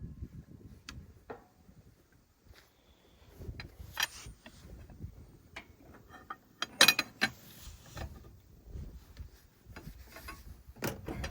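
Socket wrench turning on a loose nut while adjusting depth on machinery, giving sparse quiet ratcheting clicks and metallic knocks spread unevenly, with a busier cluster partway through.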